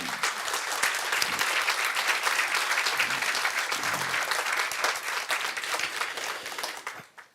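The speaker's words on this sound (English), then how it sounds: "A warm applause for all of them." A conference audience at a city sustainability event claps warmly as speakers leave the stage, sustained dense applause that holds steady and then tapers off quickly near the end.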